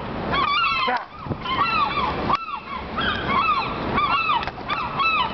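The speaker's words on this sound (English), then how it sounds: "Whoa, these seagulls are mad at me." Angry seagulls call over and over while swooping at someone on a parking garage rooftop, their loud, harsh, honking cries rising and falling in repeated bursts close by, with wind or water noise underneath.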